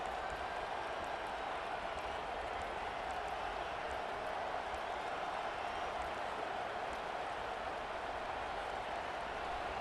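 A dense, steady roar of a large college football stadium crowd in the video game EA Sports College Football 25, distant and unbroken, with faint claps and cheers blending into a constant wash.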